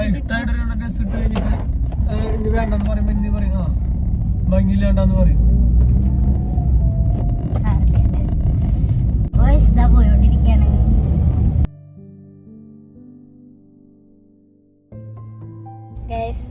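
A car rolls along a road with a low, steady interior rumble while a person talks continuously over it; partway through, the road noise cuts out abruptly and a quieter, humming stretch follows.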